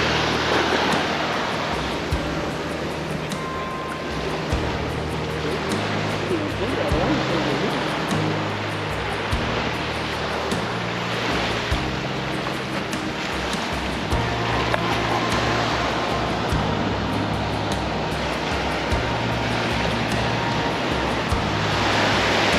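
Surf pounds and washes continuously at the Twelve Apostles near Gibson Steps on the Great Ocean Road, a broad roaring wash of breaking waves mixed with wind, a low rumble running underneath.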